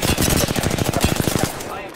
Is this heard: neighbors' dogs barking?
no